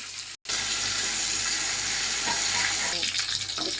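Steady broadband bubbling and sizzling from a pot of fish curry boiling on the stove, loud and continuous, with a brief cut near the start.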